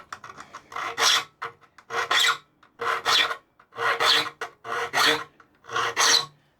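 A hand file rasps across a saw clamped in a hardwood saw vice, six steady back-and-forth strokes, each a loud, close, gritty burst separated by brief pauses.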